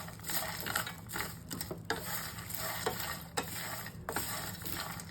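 Curry leaves and a pinch of asafoetida sizzling in hot oil while being stirred, a quiet steady crackle with irregular scraping and clicking strokes, no voices.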